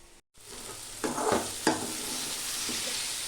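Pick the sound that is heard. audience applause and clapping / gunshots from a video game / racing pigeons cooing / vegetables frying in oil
vegetables frying in oil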